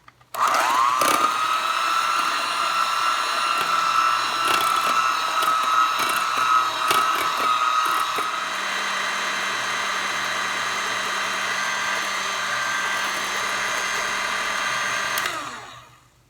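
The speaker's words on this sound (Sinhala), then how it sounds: "දුඹුරු සීනි එකතු කරන්න. හොඳින් බීට් කරන්න." An electric hand mixer beats butter or margarine with brown sugar for ginger biscuit dough, a steady loud whirring motor drone lasting about fifteen seconds before cutting off.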